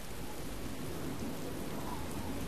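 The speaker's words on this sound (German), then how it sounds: "Ja, ich stehe im Regen." Rain falls steadily in the video game Oblivion, a continuous even hiss of drops with no breaks or changes across the short stretch.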